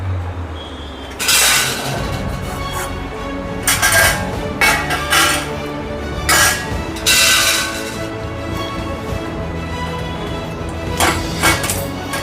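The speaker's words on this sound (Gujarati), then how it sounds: "તો આપણે દૂધીને છોલી લેશું." A peeler strips the skin from a washed bottle gourd (dudhi) in a kitchen, making a series of close, sharp scraping strokes in an uneven rhythm with short pauses between them.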